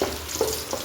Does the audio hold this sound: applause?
no